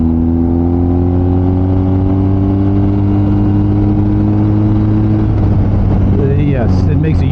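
A BMW R1250GS motorcycle riding on fresh Michelin Road 5 tires, its steady engine hum and wind rush loud and constant, with slight pitch shifts as the rider cruises.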